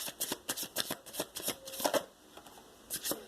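Soulmate oracle cards being shuffled by hand in a quick series of crisp riffling bursts, close and fairly loud, with no talking over them.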